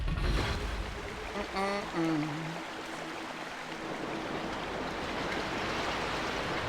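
Water rushes and flows as the level rises in The Legend of Zelda: Twilight Princess HD, a steady stream-like wash with brief game chimes and tones near the start.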